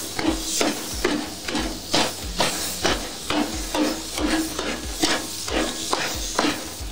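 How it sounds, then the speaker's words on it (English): Cheesesteak meat is chopped hard on a hot griddle with a metal spatula: a fast, steady run of sharp clanking strikes over a constant sizzle, close and loud, with no talking. "Start aggressively chopping this up."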